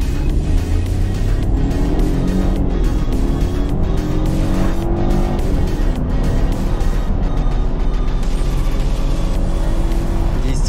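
A BMW F30 318i with a 136 hp engine accelerates hard from 0 to 100 km/h, its engine note climbing steadily in pitch through the gears, loud and continuous inside the car.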